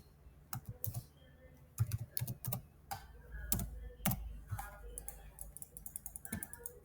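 Someone types text on a computer keyboard close by, producing irregular bursts of crisp key clicks with short pauses and a few heavier thumps.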